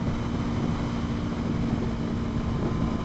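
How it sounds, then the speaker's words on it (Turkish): Loud, steady wind roar buffeting a motorcycle helmet while riding a Voge 250RR at night on the Istanbul Airport road, a continuous broadband rush with engine drone underneath and no speech. "Kaskın içi inanılmaz rüzgar oluyor."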